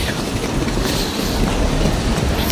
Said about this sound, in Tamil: இதான் ஓப்பன் பேக்ஸ் ரயில்வே ஸ்டேஷன்